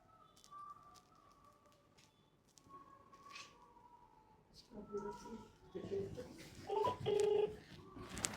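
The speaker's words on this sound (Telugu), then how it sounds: "సో వసంతారెడ్డికి ఫోన్ చేద్దాం" A phone number is dialed for a lucky-draw winner call, giving a series of short DTMF keypad beeps that grow louder and more frequent, with quiet background voices around them.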